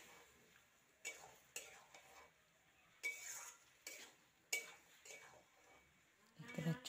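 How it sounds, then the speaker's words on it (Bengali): Chicken meat stirred and sautéed in a pan, heard as a few faint, separate scrapes and clinks of a utensil against the pan over a quiet background, with a slightly louder clatter at the end. "তো রান্না বসিয়ে দিয়েছি, এখানে মাংস কষানো হচ্ছে।"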